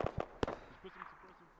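Bursts of suppressing gunfire in the video game Arma 3, three sharp quick shots at the start and then quieter echoing fire, with a voice speaking over the tail.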